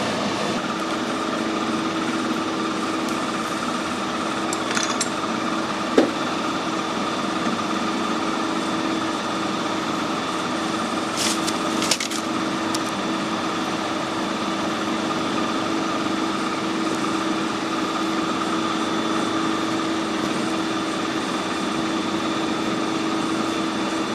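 A workshop lathe machining a chrome bar runs with a steady, even motor hum and faint whine, a couple of small clicks breaking the continuous drone.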